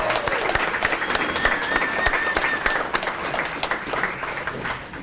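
Audience applause at a career and technical education signing day event, a steady wash of many hands clapping throughout, fairly close and even in loudness, with a faint voice or whistle tone briefly above it.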